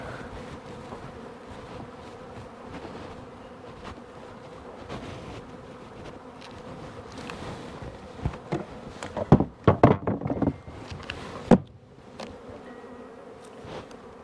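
A hive of about 100,000 bees hums in a steady, dense drone, with a run of sharp knocks and taps on the wooden box partway through before the buzz settles back.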